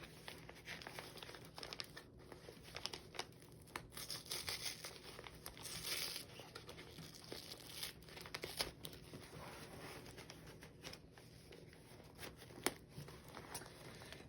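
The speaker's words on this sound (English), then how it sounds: "The kit says insert finger under perforation and tear." A perforated PICC line dressing kit package being torn open by hand, with soft continuous crinkling and tearing of packaging close up, fairly quiet throughout.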